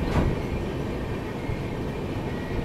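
A double-decker train rolls slowly past a small station on the Chennai to Bangalore line, a steady close rumble of wheels and carriage noise with a brief louder knock near the start.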